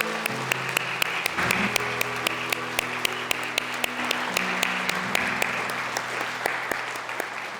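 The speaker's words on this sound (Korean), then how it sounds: "우리 힘차게 박수하겠습니다." Congregation claps at a church retirement service, a dense sustained applause with sharp, regular individual claps standing out, while sustained musical tones play underneath.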